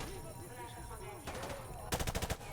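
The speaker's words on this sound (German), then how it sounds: "Ich schieße einfach so ein bisschen rum" Gunfire in Call of Duty Modern Warfare 2 Remastered: a quiet background gives way to a short rattling burst, then a louder rapid automatic volley of closely spaced shots near the end.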